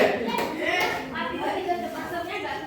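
Children clap hands in a classroom counting clap game, with short bursts of claps in rhythmic groups mixed under a teacher's talking and children's voices.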